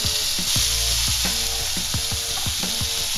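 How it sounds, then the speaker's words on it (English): Chopped braised beef lips fry in a pan for tacos, a steady loud sizzle broken by repeated scraping stirs of a utensil against the pan, close and continuous. "We've decided to fry the meat up just a little bit."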